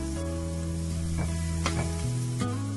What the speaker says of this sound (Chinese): 熱鍋放油，油熱之後倒入蔥蒜末，